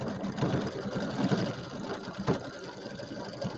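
A sewing machine stitches a penguin mug rug, a steady close-up mechanical whir with a fast rhythmic patter that runs unbroken for a few seconds.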